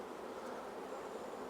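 Honey bees buzz on a hive frame being shaken during a nuc inspection, a faint, even hum that holds steady throughout with no voices.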